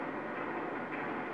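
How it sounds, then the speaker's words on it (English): A train rumbles along railroad tracks in the video game GTA 5, a steady broadband roar filling the short stretch with no break, loud and close, with no voices over it. "Yep, I think the train's coming."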